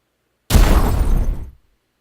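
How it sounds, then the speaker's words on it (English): A single loud video game explosion bursts in abruptly, a broad booming blast that holds for about a second before cutting off into silence. "There's a lot of explosions."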